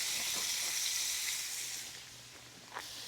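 Already-cooked pork pieces sizzle steadily while browning in a pot for Texas chili, a broad close hiss that eases slightly toward the end, with a light clink near the finish.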